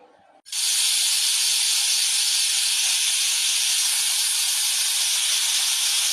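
Pressure cooker cooking elephant foot yam with salted water lets out a loud, steady whistle of hissing steam that bursts on suddenly and holds continuously, close by with no talk.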